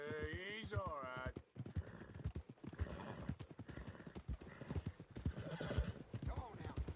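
A horse in Red Dead Redemption 2 whinnies sharply at the start, then trots with steady clip-clop hoofbeats under a voice that keeps talking throughout.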